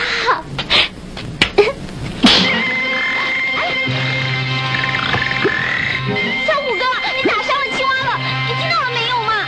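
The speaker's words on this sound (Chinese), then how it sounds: "哇，好大一只青蛙！" A large frog croaks in repeated loud, throaty calls in an outdoor scene from a 1980 Chinese martial-arts film, with voices talking around it.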